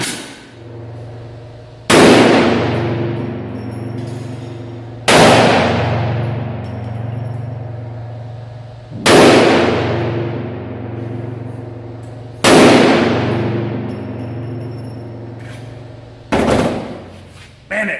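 .50 caliber rifle fired at an outdoor shooting range: five loud, booming shots spaced about three seconds apart, each with a long rolling echo and low rumble that fades before the next blast.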